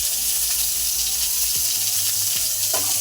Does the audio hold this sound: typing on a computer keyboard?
no